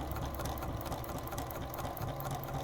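A sewing machine runs steadily at close range, stitching over tape on clear vinyl for a sports stadium bag, with a dense continuous mechanical buzz and rapid needle chatter throughout.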